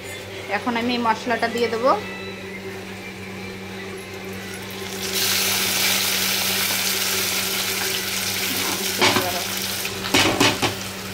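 Spice masala is dropped into a pan of onions fried reddish-brown, setting off a loud, steady sizzling hiss that starts midway and keeps going; a person talks before and near the end.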